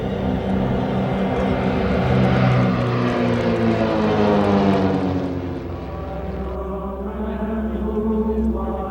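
Loud droning roar of World War II-era propeller fighters (Hellcat, Tigercat, Bearcat, Wildcat) passing overhead at an air show, engine tones sliding downward as the planes fly by, then a softer continuing drone.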